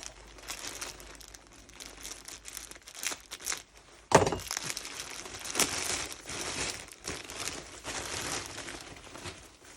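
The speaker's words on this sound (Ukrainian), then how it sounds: "Тут такі пакети." Plastic bags wrapped around grape seedling roots crinkle and rustle close by in bursts, with one sharp louder crackle partway through and continued handling afterward.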